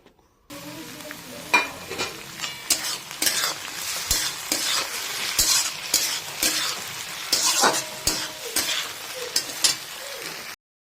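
Onions and chopped tomatoes frying loudly in a pan, with a spoon stirring and scraping in rhythmic bursts over a constant close sizzle.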